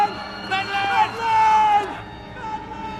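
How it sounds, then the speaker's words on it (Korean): Several people shout and yell amid commotion in a chaotic 18th-century French hospital, voices overlapping in loud bursts that rise and fall. "사람들의 고함 소리에 잠에서 깬 신부."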